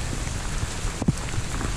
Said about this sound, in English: a lot of freezing rain coming down.